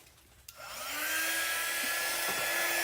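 A handheld hair dryer switches on and blows a steady, loud whoosh close by, drying wet chalk paste on a custom shirt, running alone without talk.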